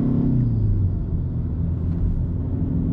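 A 2024 BMW X1 M35i driving at mild speed through a residential area, heard from inside the cabin as a steady low engine and road rumble with a slight pitch drop early on.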